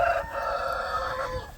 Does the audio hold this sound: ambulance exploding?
no